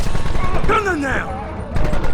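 Gunfire in the western video game Red Dead Redemption, loud bursts of shots at the start and end with a voice shouting in the middle over the shooting.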